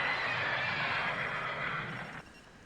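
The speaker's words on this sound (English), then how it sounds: "I didn't think we owned horses." A single horse whinny, loud and near, holding a high rising tone for about two seconds before cutting off, with a low background hum after it.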